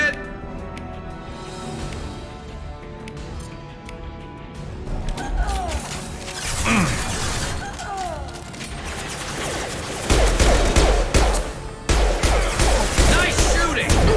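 Bursts of gunfire and impacts from combat in Mass Effect 2 Legendary Edition on PC, building from scattered shots to loud, dense volleys with crashing hits in the final seconds, mixed with game effects and occasional voices.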